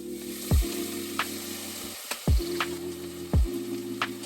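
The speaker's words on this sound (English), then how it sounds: "throw the pork in and saute everything up together" Pork and anchovies sautéing in a pan give a steady sizzle, broken about three times by sharp thuds as food or a utensil hits the pan, followed by soft scrapes.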